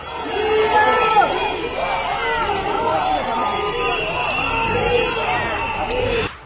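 Crowd gathered outside a court cheering and shouting encouragement as a detainee is taken away, many voices calling out together, loud and sustained before cutting off.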